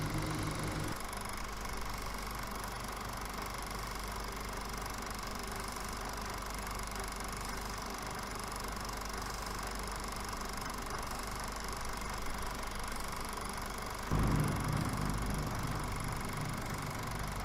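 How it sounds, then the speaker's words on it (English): A small propeller airplane's piston engine drones at a steady, even pitch for a long stretch, then the tone shifts and swells slightly louder near the end. "taking off in Pacific City and going to give us a great flyby"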